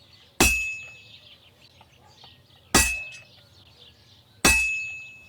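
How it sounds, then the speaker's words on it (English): A smith's hammer strikes a heated sword blade at the forge in Kingdom Come: Deliverance 2. Three sharp metallic clangs are spaced a couple of seconds apart, each ringing and decaying over a low background hum. "Now take the hammer and try hitting it a few times."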